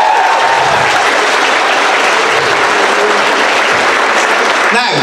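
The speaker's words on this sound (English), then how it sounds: "can we get another applause for that brilliant opening there" Loud audience applause for the opening act of a school variety show, dense and sustained clapping that fills the whole stretch, with a voice rising over it near the end.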